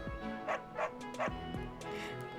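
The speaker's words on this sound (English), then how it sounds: "Why do I hear a dog? There's a dog nearby." Dog barking nearby in Fire Emblem: Three Houses, four or five quick, fairly soft yips and woofs in an even rhythm, slightly distant, with no talk over them.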